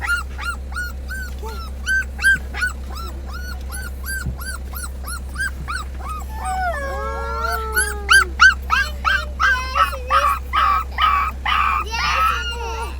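Golden retriever dogs whimper in a rising, repeated series of whines that swell into howling, close and fairly loud, with children's voices heard faintly in the background.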